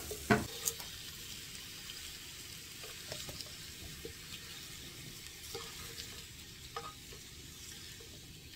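Cardoon and garlic sautéing in olive oil, a soft low sizzle with occasional faint utensil scrapes and a clink near the start, no talk.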